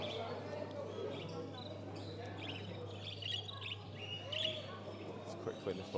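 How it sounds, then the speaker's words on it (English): Budgies at a busy bird auction give bright, high chirps and tweets in scattered bursts over a low background murmur of the crowded hall. "Some big budgies there."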